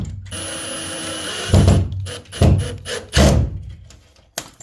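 A screwdriver drives a screw into a drywall anchor for a guitar shelf mount, heard as three close, loud bursts of grinding and turning against a steady background hum, with a final short tap.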